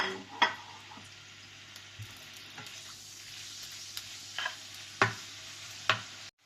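Pork sizzles and fries in a pan, stirred in several sharp scraping strokes over a steady close hiss, with no talking.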